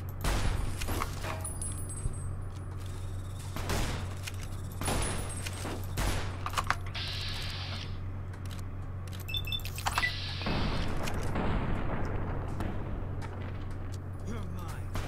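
Single shots from a rifle firing .308 ammo in Fallout New Vegas ring out at intervals, sharp and fairly loud over a constant low ambient hum, with a voice talking over parts of it.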